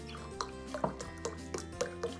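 Vegetable stock is poured with uneven drips and splashes, a faint liquid trickle punctuated by several small plops over a steady low background hum.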